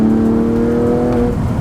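Porsche 718 Cayman GT4 engine revving hard under acceleration, a loud close steady engine note with strong harmonics climbing smoothly, with no talk over it.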